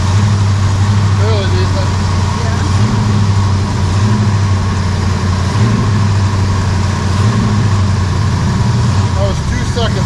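A Ford 302 V8 fitted in a 1968 Chevy C10 truck runs with a steady, loud, low rumble close by while someone talks over it.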